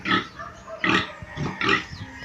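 A farm pig grunts and squeals in three loud, close bursts shortly after feeding, with brief pauses between the calls.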